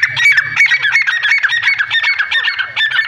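A free-roaming male white teetar partridge calls loudly and close by in a dense run of harsh, honking squawks, repeated rapidly with no speech.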